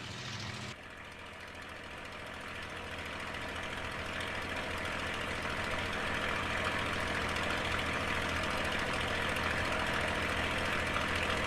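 A TF-51 Mustang's piston aircraft engine idles steadily while warming up before its run-up, a dense continuous rumble that builds slightly in loudness and stays close and constant with no talk.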